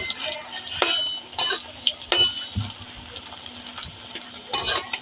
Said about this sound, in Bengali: দেখেন বেশ লাল লাল করে ভেজে নিতে হবে সাবধানে নাড়াবেন